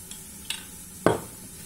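Onions for moules marinière sauté in a pan, a soft sizzle under a few light clicks and one sharper scrape of a utensil against the pan, close and brief.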